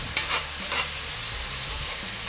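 Seasoned beef stirred briefly with a splash of beef broth in a hot pan, a steady broadband sizzle with a few scraping stir strokes near the start, close and fairly loud, no talking.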